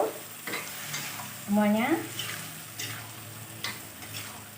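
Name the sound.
stirring potatoes and petai cooking in a pan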